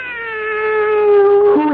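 A cat meows in a radio drama, one long, drawn-out tonal meow that rises slightly and trails off, close and clear with no talk over it.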